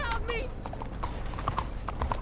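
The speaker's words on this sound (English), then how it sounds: "My horse went nuts." Video game horse hooves clip-clop steadily at close range, with a brief whinny near the start, while a voice talks over them throughout.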